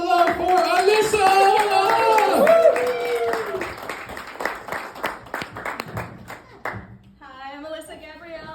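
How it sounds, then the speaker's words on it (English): A small audience claps for a young performer being introduced at a showcase, with a few hand claps under a lively child-sounding voice and some music, then a short tonal passage near the end. "Give all the applause, all the love for Alyssa."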